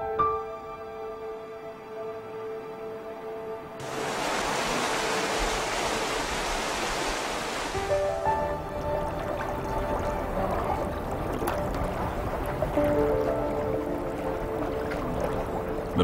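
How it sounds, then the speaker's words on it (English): Snowmelt water flows through small brooks along the lanes of Lijiang old town, a steady, soft rush that swells louder for a few seconds before settling into a continuous gentle gurgle under faint music. "The melted snow trickles into numerous brooks that gurgle through the lanes of the town."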